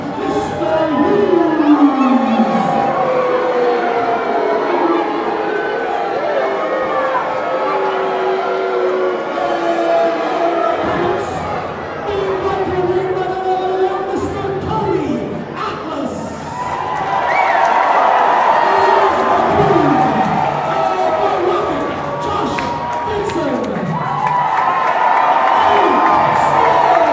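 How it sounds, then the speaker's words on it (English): A packed professional wrestling arena crowd roars and cheers continuously, loud and dense, with surges of yelling and whistles, while a ring announcer and commentators talk over the noise. "Listen to that crowd."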